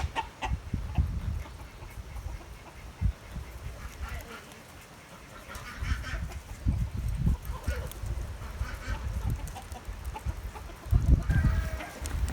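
Chickens cluck and squawk on and off at moderate distance in front of their coops, with ducks joining in over a low outdoor rumble.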